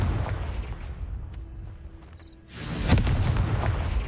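A Confringo spell in Hogwarts Legacy, played on PS5, detonates with a deep booming blast followed by a loud, sustained rumbling roar after a quieter lead-in.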